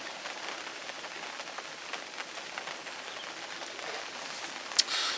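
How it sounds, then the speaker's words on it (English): Rain falls steadily at a fishery pond in Devon, a continuous soft hiss of drops on water and surfaces with a brief louder patter near the end. "nothing's happened, it's still raining"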